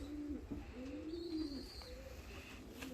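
Fancy and costume pigeons coo in a series of soft, low, rolling calls, close by, with faint background noise and no talk.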